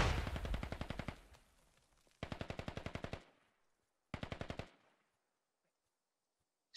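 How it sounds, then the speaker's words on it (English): Automatic gunfire in the tactical shooter game Squad: three rapid bursts of machine-gun fire, the first long and loud, then two shorter bursts separated by silent gaps, with no talk. "Silas firing through it, firing through the fence."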